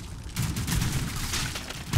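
Gunfire in a plastic army men war game, a steady rumbling stream of shots throughout with no clear gaps, fairly loud and continuous.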